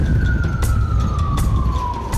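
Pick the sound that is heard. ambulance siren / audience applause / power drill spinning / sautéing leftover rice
ambulance siren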